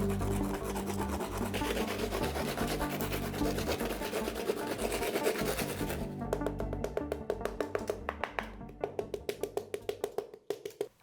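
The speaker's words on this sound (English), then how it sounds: "I used that same small piece of wood to scrape across the top of the mold, remove the excess concrete" A small piece of wood scrapes across the top of a concrete mold, clearing off excess wet concrete in a dense rasping rub that turns into separate rhythmic strokes, each clearly spaced, close and moderately loud.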